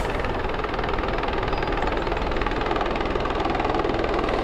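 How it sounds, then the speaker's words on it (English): A helicopter landing at a hospital emergency department: a loud, continuous engine drone with rapid pulsing vibration, steady and close throughout with no voices. "a helicopter is landing right now"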